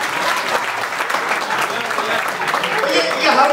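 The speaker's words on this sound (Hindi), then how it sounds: "और जिनके समझ में आ गई वो एक बार जोरदार ताली बजाइए" Vigorous audience clapping at a Hindi kavi sammelan poetry recital at Bilaspur University, a thick, crackling wash of many hands that stays loud and steady over the short stretch, with some crowd murmur mixed in.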